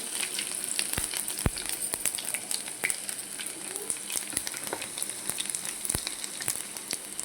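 Cumin seeds, garlic and curry leaves sizzle steadily in hot oil for a tomato curry, a close, dense frying hiss broken by sharp scattered crackles and pops throughout.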